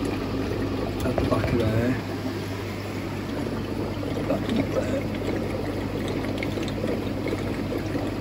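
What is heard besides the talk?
water draining from a Tempest boiler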